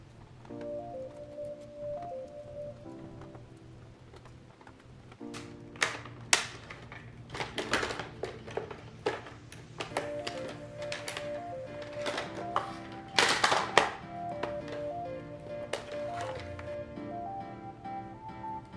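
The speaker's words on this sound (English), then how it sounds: "you need to unscrew the small screws that attach the bumper to the machine" Small screws are backed out of the bumper of a Eufy robot vacuum with a screwdriver, giving quick clusters of close, dry clicks and ticks over a soft, steady background tone.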